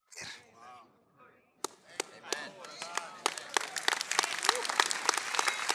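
A church congregation applauding a sermon: after a brief spoken phrase and pause, scattered claps begin and quickly thicken into dense, sharp applause that grows louder toward the end.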